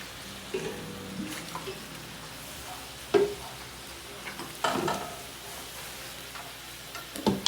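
Beef intestine adobo with chilies and soy sauce is stirred in a pan, giving a low background sizzle with a few distinct scraping and clattering strokes of the utensil, close and fairly quiet without talk.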